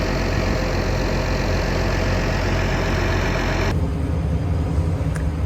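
A Case IH Puma 145 tractor engine idles steadily inside the cab, a continuous low rumble with a slight knock; the sound drops in character partway through, and no one speaks.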